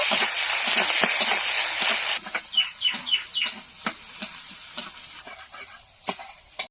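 Chopped onion, crushed garlic and slit green chillies with panch phoron fry in a pan, a loud hissing sizzle at first, then quieter frying broken by a spatula's scrapes, taps and short squeaky strokes as the mix is stirred.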